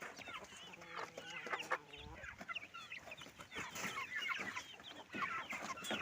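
Native country hens cluck in soft, repeated bursts while their small chicks peep around them, all fairly quiet and close in a farmyard setting.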